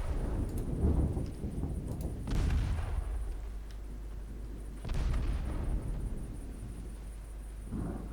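Naval guns boom and torpedoes strike ships in the naval warship game Ultimate Admiral Dreadnoughts, heard as a few heavy, rumbling blasts with long decaying tails over a low continuous roar, fairly loud and without talk.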